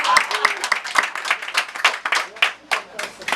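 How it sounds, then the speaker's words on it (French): Audience applause at a Women's Day event, a run of dense, fairly close handclaps, uneven and a little sparse, while a voice talks over part of it. "on va l'applaudir quand même"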